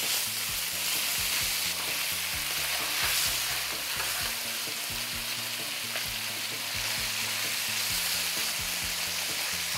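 Thinly sliced onion sizzles in a pan with a broad steady hiss, while a faint low tonal hum runs underneath the whole time.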